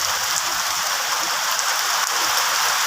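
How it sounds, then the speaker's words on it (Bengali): Heavy storm rain pours down in a dense, unbroken hiss that stays loud and steady throughout, heard close from indoors with no voices. "তো দেখো কী করে মানে দেখাতে পারছি না, এত ঝড় বৃষ্টি দেখো বন্ধুরা"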